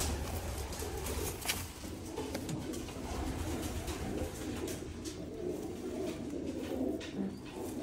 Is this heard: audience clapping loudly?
no